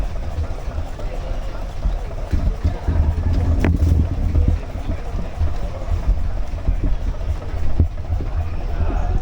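A steady low engine rumble drones throughout from a nearby boat service motorboat, with faint voices mixed into the background.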